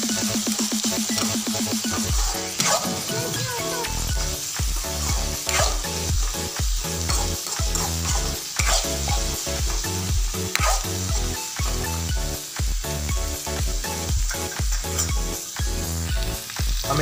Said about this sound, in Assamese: শুকান মাছখিনিৰ লগত পিঁয়াজখিনি ভালকৈ ভাজি ল'ব